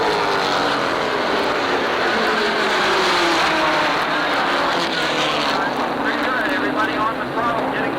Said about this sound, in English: Everybody on the throttle, getting through cleanly.